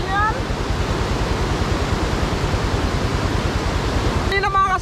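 Heavy rain pours down in a steady, dense roar, loud and continuous, with a brief voice near the end.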